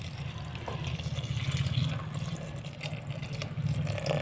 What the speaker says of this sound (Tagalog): maglalagay po tayo ng tubig